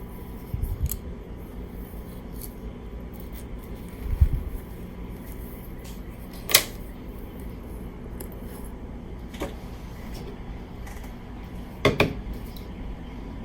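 Scissors snip across a section of hair during a beginner twist hairstyle, a few sharp separate clicks spread through quiet background rustle.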